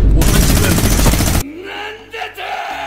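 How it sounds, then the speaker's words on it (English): A toy minigun sound effect rattles in a dense, rapid burst for over a second, then cuts off, leaving a whirring tail and faint background noise. "even a minigun."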